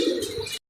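Pigeons coo and chirp close by at a home loft as birds return from a race, one brief burst of soft calls lasting under a second.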